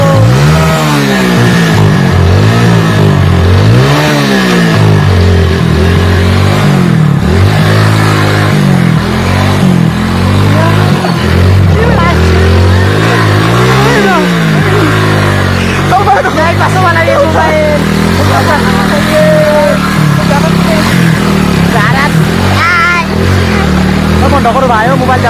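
A motor vehicle's engine revs up and down in the rain on a waterlogged road, rising and falling in pitch beneath almost constant, loud talking.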